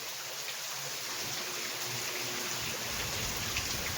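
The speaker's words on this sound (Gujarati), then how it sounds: "વરસાદની જ વાટ હતી, વરસાદ આવ્યો મોડો પણ" Heavy rain pours steadily over farm fields planted with groundnut, a dense, unbroken hiss of falling water with no voices and no pauses.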